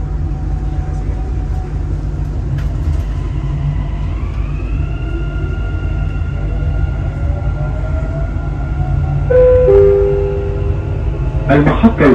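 Dubai Metro Red Line train departing after its doors close, with rising tonal motor whine sweeping upward as it accelerates over a steady rail rumble, followed by door chimes near the end; recorded announcement speech is audible.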